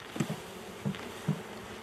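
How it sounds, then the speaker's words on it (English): Honey bees buzz around a healthy hive, individual bees droning past close by in three short, low passes over a quiet, hissy background. "There's so many bees in this thing right now."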